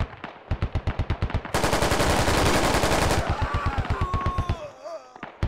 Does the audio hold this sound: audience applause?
no